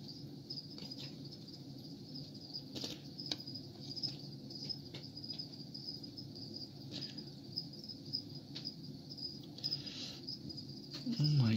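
A feeder cricket inside a tarantula enclosure chirps in a thin, high, steady trill that runs faintly through the whole stretch, with occasional soft clicks and rustles nearby.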